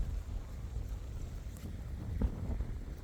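Low, rumbling wind buffeting the microphone, fairly quiet and steady, with a faint engine-like drone underneath and no talking.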